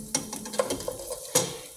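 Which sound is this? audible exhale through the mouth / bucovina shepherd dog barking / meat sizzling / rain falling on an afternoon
meat sizzling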